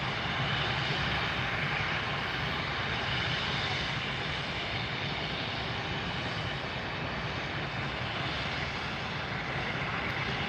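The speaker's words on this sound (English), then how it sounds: "We have another A330 taxiing up for departure." An Airbus A330 jet taxiing for departure at Miami airport at night, a steady broad engine roar that holds constant and fairly loud for the whole stretch, with no talking over it.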